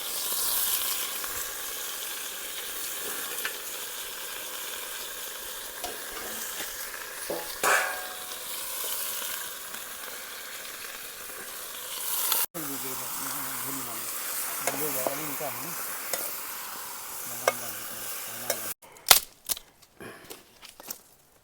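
A vegetable curry of hill brinjal, potato and tomato stirs and fries in a kadhai over an outdoor fire in the mountains, a steady sizzle under scraping stirs, with voices talking near the end.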